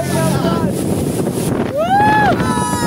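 A speedboat runs across open water in strong wind, its engine drone and spray rushing steadily throughout, loud and close, with a voice rising briefly above the roar partway through.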